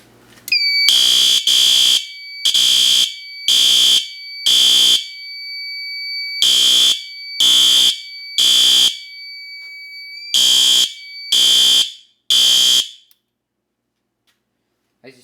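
A Firelite MS-4 fire alarm panel sounds loud, piercing electronic alarm tones in evenly spaced short bursts, in repeating groups with brief pauses, before abruptly falling silent.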